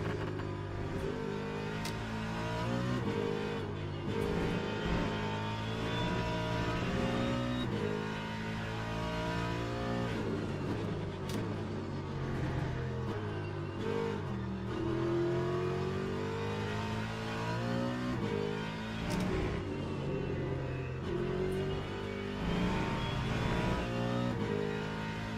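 A race car in the sim game Le Mans Ultimate drives hard, its engine revving up and down through gear changes in a continuous, fairly loud drone with repeated rises and drops in pitch, no voices over it.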